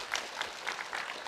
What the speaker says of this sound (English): Give a hand of applause, please.